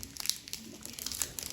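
Foil wrapping of an MLB 2021 Topps holiday trading card pack crinkles and tears as it is opened, a close, busy run of crackling rustles with no talk.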